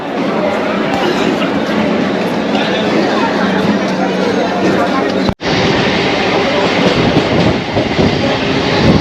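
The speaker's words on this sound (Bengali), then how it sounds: "আমরা এখন শিয়ালদা থেকে যে ট্রেন ধরেছিলাম ক্যানিং লোকাল" A Canning local train runs out from Sealdah, its carriage rumbling with steady rhythmic clickety-clack of wheels over rail joints, loud and close, with a brief cut midway and faint voices mixed in.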